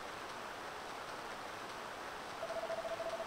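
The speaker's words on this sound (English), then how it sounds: "It's just raining a little bit." Light rain in the PS1 game Dragon Quest 7, a soft, steady hiss that stays faint and even throughout, with a thin sustained tone joining near the end.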